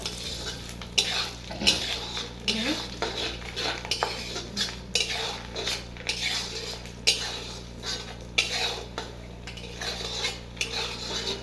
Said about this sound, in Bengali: সব একসাথে ঘিয়েতে সব ভেজে নিলাম